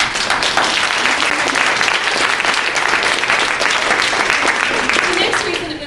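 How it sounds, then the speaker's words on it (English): A large audience gives a steady round of applause at a talk, a loud, dense wash of clapping hands that continues evenly throughout. "That deserves a round of applause for her."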